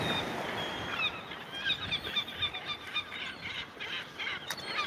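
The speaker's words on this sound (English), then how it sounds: "Birds up here," Geese honking loudly overhead on a warm evening, a dense chorus of repeated calls over steady outdoor ambience, close and persistent.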